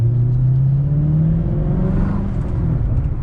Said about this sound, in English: We'll open it up so we can hear the exhaust.